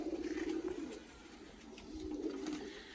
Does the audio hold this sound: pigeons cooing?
yes